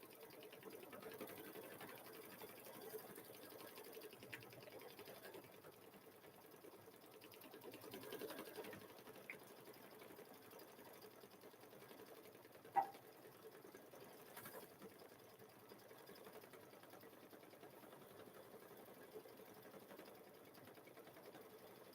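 A Husqvarna embroidery sewing machine stitches out a quilt block held in the hoop, a steady, fairly quiet mechanical whir that continues evenly throughout, with a single brief click partway through.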